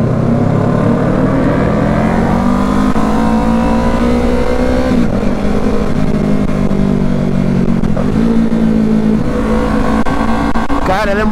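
A Yamaha R3 racing motorcycle at full throttle on the Interlagos circuit, its engine note loud and close, climbing through gears with brief dips at shifts before revving up again.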